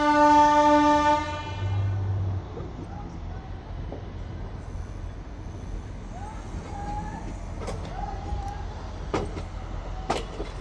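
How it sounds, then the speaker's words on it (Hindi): The 07664 Jalna–Parbhani Festival Special sounds a long, loud horn blast as it departs Jalna station, then settles into a steady rolling rumble of coaches with faint squeals and clanks. "तो चलिए फाइनली हमारी ट्रेन राइट टाइम 5:30 बजे जालना रेलवे स्टेशन से रवाना हो चुकी है।"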